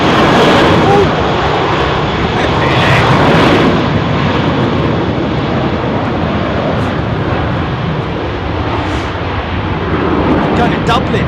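An airliner flies at London Heathrow Airport during windy arrivals, a loud continuous jet engine roar mixed with gusting wind noise, with voices talking underneath.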